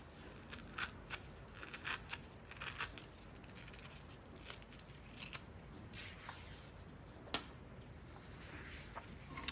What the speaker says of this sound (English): I've unfolded my paper and I've cut or torn off that extra rectangle